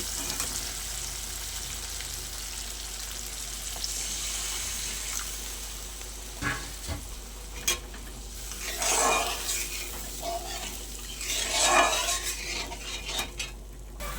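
Water poured into fried spice paste in a pan while cooking a Bengali fish curry, giving a steady close-range sizzle with bursts of hissing and bubbling, plus occasional spoon and pan clinks. No talking.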